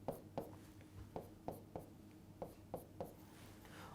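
Marker or pen strokes on a board as plus-one marks are written above letters, a steady series of short scratchy taps roughly every third of a second, close and clear with no talking.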